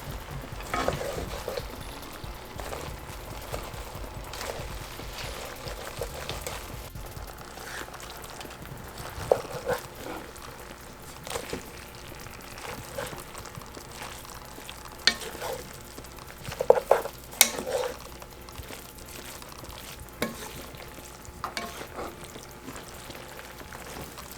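Cabbage and bacon stirred around in a frying pan, a soft steady sizzle with scattered scrapes and clinks of the utensil, close and moderately quiet, no talking.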